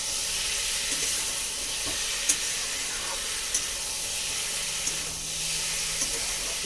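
Rohu fish pieces and potatoes fry in a pan for a homemade fish curry, a steady broad sizzle hissing throughout with a few faint clicks of a spoon against the pan.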